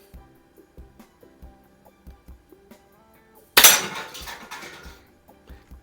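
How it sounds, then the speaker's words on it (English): A tin can is struck by an air pistol pellet and knocked over: a sudden loud metallic crash and clatter that rings out and settles, following a series of soft, regular mechanical clicks. "It's one way to knock the cans over."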